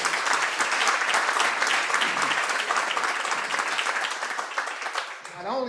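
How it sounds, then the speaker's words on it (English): Sustained audience applause at a college Men of Color luncheon, dense steady clapping from a crowd for several seconds before tapering off as a voice begins to speak. "So let's give Milan another round of applause"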